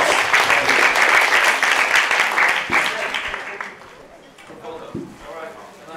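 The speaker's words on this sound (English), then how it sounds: "Another round of applause." An audience at a social enterprise summit claps loudly for several seconds, then the applause thins out and fades, with a speaker's voice coming through as it dies down.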